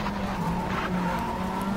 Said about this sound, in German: Beim Anbremsen fast das Auto verloren.